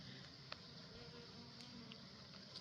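Steady, faint buzzing of bees hovering around African blue basil in a garden, a continuous hum with a few brief clicks, no voices.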